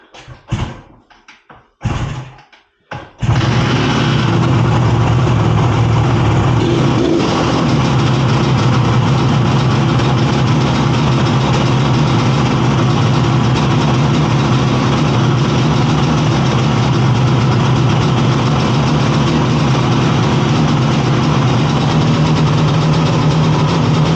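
A 1967 Yamaha YR1 two-stroke motorcycle engine splutters through a few brief bursts, then settles into a loud, steady, close idle that holds for the rest of the clip.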